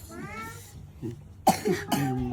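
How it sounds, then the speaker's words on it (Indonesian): A person coughs sharply twice in close succession, loud and near, after a stretch of quieter vocal sounds that could be a cat meowing. "Tutupan batuk teh kasopanan."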